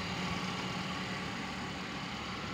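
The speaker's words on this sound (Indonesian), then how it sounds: "ini untuk suara mesinnya sangat halus sekali" A Kia Visto Zip Drive with a 1000 cc petrol engine idles steadily, a low, smooth hum held at a faint, even level with no voices over it.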